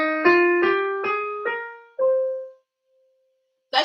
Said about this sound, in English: And a minor scale sounds like this.